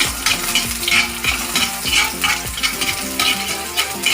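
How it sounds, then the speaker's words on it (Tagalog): Onions fry and sizzle in hot oil in a pan for pancit palabok. A utensil stirs them in a repeating rhythm of scrapes and clinks over the continuous hiss. "Nilagyan po natin ng konting mantika, pinainit po natin. Okay? Ilagay po natin yung sibuyas."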